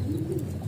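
A pigeon gives a short, low, throaty coo in a loft for high-flying pigeons in Pekalongan. It is close and clear, over a faint background murmur.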